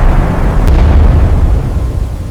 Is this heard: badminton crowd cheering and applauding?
no